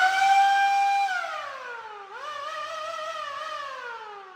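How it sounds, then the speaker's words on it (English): A siren mounted on a restored vehicle wails alone and close, holding a steady high tone before sliding down, then rising again into a wavering, gradually falling second wail. "it's got a siren on it"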